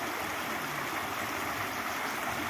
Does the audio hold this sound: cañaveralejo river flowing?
yes